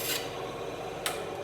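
A handsaw cuts a short piece from a 3/16 inch wooden dowel rod with a few quick, quiet rasping strokes, close by and faint.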